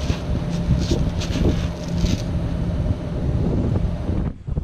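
Strong outdoor wind buffets the microphone in a steady, loud, rumbling roar, with gusts that swell and ease during sowing work in a field; a sharp dip near the end.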